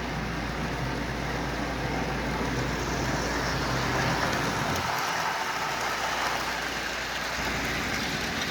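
A Lionel 8351 Santa Fe diesel model train runs at slow speed, a steady continuous mechanical hum and rumble with no talk.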